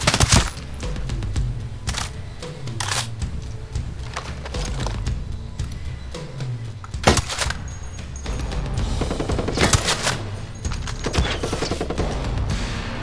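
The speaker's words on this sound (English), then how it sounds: "Who's shooting at you?" Sustained gunfire in Ghost Recon Breakpoint on PC, with rapid bursts and sharp cracks recurring throughout, some loud close shots standing out among steadier distant firing.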